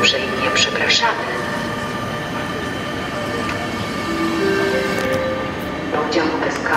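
A Traxx locomotive hauling a conference car rolls slowly into the Warszawa Olszynka Grochowska stabling station, a steady rumbling wheel-and-rail noise with faint squeals, heard at moderate distance amid station ambience.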